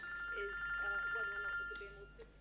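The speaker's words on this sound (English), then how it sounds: "Simon, it's your phone." A telephone rings indoors in a quiet domestic scene, its bell chirping in short bursts over a steady hum, moderately faint in the room.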